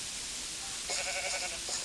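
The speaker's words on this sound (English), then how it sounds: "Wait, there's a sheep." A Minecraft sheep lets out a single wavering bleat, clear and fairly close, rising out of a constant background hiss and then fading.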